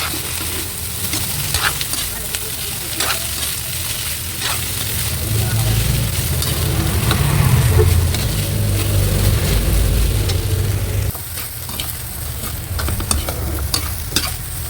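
Shredded corn and sweet potato sauté together in a pan, a strong steady frying sizzle with repeated scraping stirs, and a low hum swelling underneath in the middle before dropping away.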